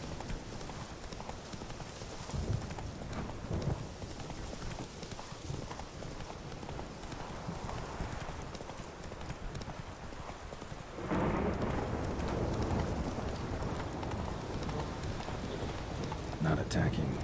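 Horse hooves clip-clop at a gallop in The Witcher 3, a steady rhythmic drumming under game ambience with rain and rumbling thunder, growing louder partway through.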